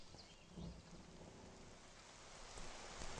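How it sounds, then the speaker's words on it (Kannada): Heavy rain pours down in a steady dense hiss, with a low rumble of thunder and wind beneath, fairly faint and continuous, growing slightly stronger toward the end. "ಜೋರ್ ಮಳೆ ಹುಯ್ತಾ ಉಂಟು"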